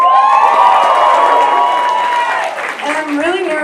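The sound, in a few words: audience cheering and applause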